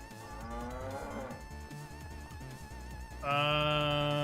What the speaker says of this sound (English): Maybe that's just the cows we have in here.